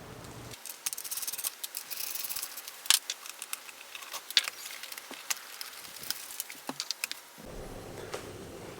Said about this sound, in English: Just trim the harness